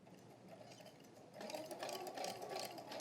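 Domestic sewing machine stitching straight seams, starting up midway as a faint, soft rhythmic whir after a quieter stretch of near silence.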